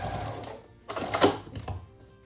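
A sewing machine stitches a back tack on a fabric lanyard, with two short bursts of rapid mechanical needle chatter, the second briefer, close and clear, separated by quiet pauses.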